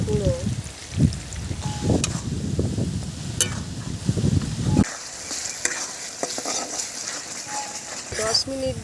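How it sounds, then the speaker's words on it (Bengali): Spice paste of ginger, coriander, cumin, turmeric, sugar and chili powder sizzles and is stirred in a frying pan for a kachkola kofta curry, a close steady crackle with scraping strokes, quieting midway. "দশ মিনিট ধরে আমি মশলাটাকে কষছি।"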